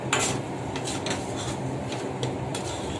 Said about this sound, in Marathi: कंटिन्यू हलवायचं घट्ट होईपर्यंत